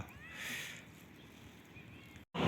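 Several street cats meow near a tree while being fed outdoors, a few thin, plaintive calls at moderate distance over quiet background noise, ending with a sudden loud rustle.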